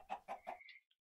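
Chickens in the Minecraft video game cluck in three quick, evenly spaced bursts, then a softer trailing cluck, all faint and alone.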